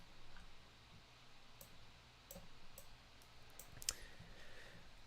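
Faint typing on a computer keyboard, a sparse series of light clicks and taps at low level with a few sharper keystrokes.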